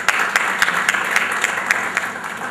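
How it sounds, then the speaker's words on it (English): An audience at an annual business and engineering event gives a round of applause, a dense, steady patter of many hands clapping in a hall, with a few louder claps standing out. "I think they deserve a round of applause"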